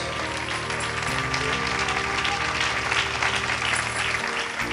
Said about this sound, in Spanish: Dele un aplauso al Señor, pero déselo con todo su corazón.